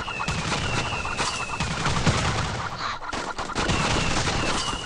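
Chickens clucking amid bursts of gunfire in the mobile game Swamp Attack 2, with a steady busy mix of rapid shots, squawks and game effects throughout.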